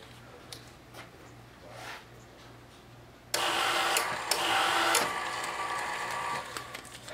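A printer fixed to a new mounting system starts up abruptly partway through and keeps up a loud, steady mechanical rush punctuated by sharp clicks, after quieter faint knocks beforehand.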